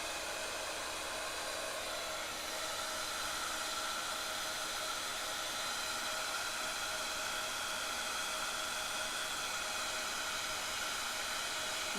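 A heat gun blows a steady, loud, broadband whoosh while melting white embossing powder at a fall crafting event, the airflow hiss running unbroken and constant throughout with no talking.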